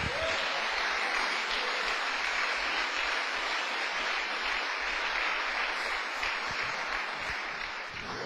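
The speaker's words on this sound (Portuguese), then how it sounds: "Agora você pode dar uma outra salva de palmas para o Senhor." Sustained congregational applause fills a church service, a dense, steady roar of many hands clapping at close range with no pause throughout.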